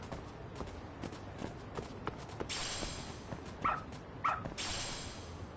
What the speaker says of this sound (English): Good dog. Very good dog.